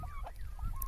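Brief burst of nearby poultry calls, a quick series of warbling, gobble-like honks from a large turkey.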